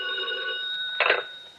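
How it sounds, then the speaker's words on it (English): A telephone bell rings in a radio drama, a short bright trill with a sharp burst of ringing near the end, heard alone with no speech. "when the phone rang"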